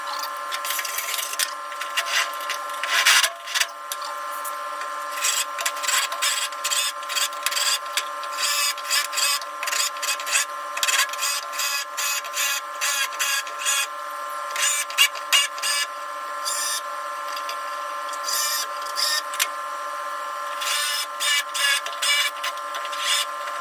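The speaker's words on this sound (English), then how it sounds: "I'm just using a wood chisel" A wood chisel scrapes and rasps repeatedly against the steel spot welds of a Spitfire floor pan, producing close, irregular bursts of grinding metal scraping, with no voices.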